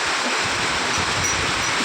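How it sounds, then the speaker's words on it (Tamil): Heavy rain pours down in a dense, steady hiss, loud and close with no gaps across the short stretch. "சரியான மழைங்க."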